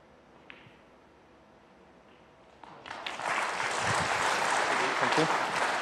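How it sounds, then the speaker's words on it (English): A sudden burst of applause from spectators at another table during a professional snooker tournament, the Players Championship, rising after a quiet, hushed start and continuing steadily to the end. "An untimely burst of applause from the other table there, but Allen was unaffected"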